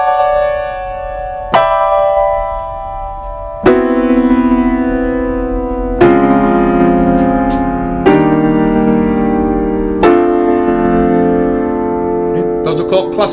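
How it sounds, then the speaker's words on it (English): Grand piano hammers out a series of loud, dense clusters, five or six bold struck chords spaced a couple of seconds apart, each ringing and decaying before the next, with a quick flurry of notes at the end. "Those are called clusters. It's a lot of notes close together."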